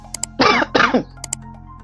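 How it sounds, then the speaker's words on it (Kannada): Two harsh coughs close to the mic in quick succession, with a few faint clicks before and after in a quiet room. "ಇವತ್ತು ಕೆಮ್ಮು ಹತ್ತಕತೈತಿ ಭಾಳ"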